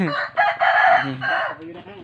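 Chickens on a Thai goat farm cluck and a rooster crows loudly and close by, a drawn-out call with short breaks, and faint talk in the background.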